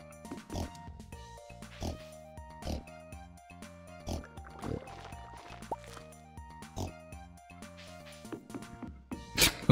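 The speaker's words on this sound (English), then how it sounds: "The pigs are going absolutely mental with the truffles." Pigs oinking over truffles in the video game Stardew Valley, a run of short cartoonish grunts and snorts in quick bursts over a steady tonal game music loop, with a few wet dripping blips between them.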